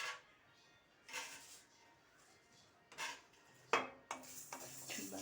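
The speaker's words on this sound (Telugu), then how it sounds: "ఇవి లో ఫ్లేమ్లో పెట్టుకొని కొంచెం ఎర్రగా వచ్చే వరకు వేయించుకున్నాము." Fenugreek seeds roasting in a pan over a low flame, heard as soft, sparse scraping and rustling stirs with occasional sharper clinks, close and quiet.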